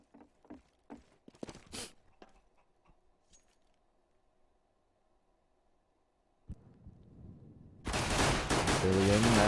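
Counter-Strike gunfire on de_inferno: a quick run of sharp shots with footsteps, then a quiet stretch under a low hum, ending in a loud burst of noisy action.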